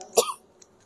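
A woman coughs once during a mosque lecture, a single sharp, close cough with a short throaty tail, then quiet.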